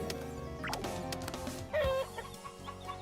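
Chickens cluck and squawk close up in a video game trailer, with a busy run of clucks, one drawn-out call in the middle, and a soft background of other farmyard noise.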